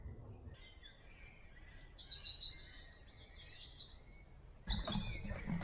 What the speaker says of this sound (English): Listen to the sound of the birds, it's amazing.